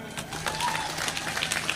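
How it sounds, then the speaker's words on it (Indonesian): Brief, fairly soft applause from a crowd at an Islamic religious lecture, a steady patter of many hands clapping with a low hum underneath. "Tepuk tangan."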